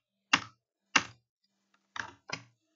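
The shift and arrow keys on a computer keyboard are pressed as five separate crisp clicks with uneven gaps in between, close and clear against silence.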